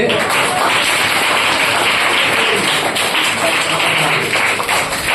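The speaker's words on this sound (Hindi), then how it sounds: "एक बार जोरदार तालियों से" Loud, dense applause from a seminar audience at the start of a second session, a steady unbroken roar of many hands clapping together for the full length, with no clear voices over it.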